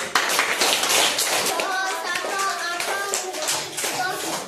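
Loud, close hand clapping mixed with lively voices, including children's, forming a busy, continuous patter with overlapping chatter throughout.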